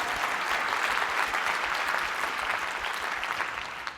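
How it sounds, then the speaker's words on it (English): Audience applause at a corporate leadership retreat's opening plenary, a dense, steady burst of clapping from a large crowd that holds loud for about four seconds before easing slightly at the end, with no voices over it. "And, yes, you can clap for that."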